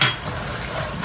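Chicken and chili stirred in a sizzling pan for sweet-crispy Korean chicken gangjeong, a steady close frying hiss with soft scraping of the spatula, brief and alone.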